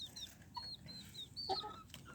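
Young chicks cheep in thin, high chirps, scattered and fairly faint, with a few louder calls near the middle and a low background hum.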